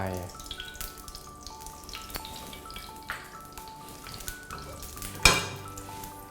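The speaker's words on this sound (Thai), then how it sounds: "อุ่นกระทะสักนิดนึงนะฮะใส่น้ำมันลงไป" Oil heating in a wok for stir-frying pork belly with curry paste and long beans: a faint, steady low sizzle and light crackle close by, with a sharp clink near the end and no talking.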